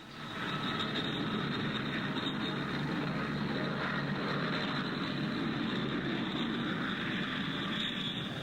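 Handley Page Dart Herald airliner with twin Dart turboprop engines in flight, a steady, even drone with a high whine, moderately loud and unbroken, with no talking.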